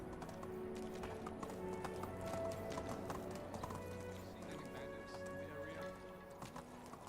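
Steady clip-clop of a ridden horse's hooves in Medieval Dynasty, quiet and rhythmic throughout, with game ambience beneath.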